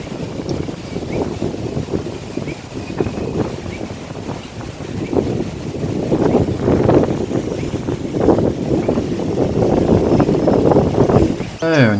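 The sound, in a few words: wind blowing outdoors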